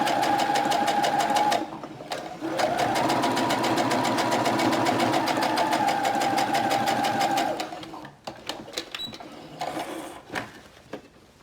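A sewing machine runs steadily for several seconds, stitching down a seam line through wadding with a fast, even mechanical chatter, then stops, followed by a few light clicks and handling sounds.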